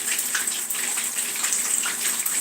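A kitchen tap runs steadily while grits are rinsed under it, a continuous close hiss and splash of water with no pauses.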